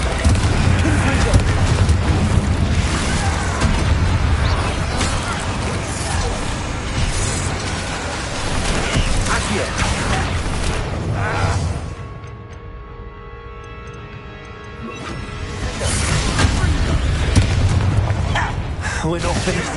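Confringo fire spells burst in a Hogwarts Legacy battle, a dense run of loud booming blasts and crackling fire over busy combat noise, easing briefly before the explosions build again, with spoken voices mixed in.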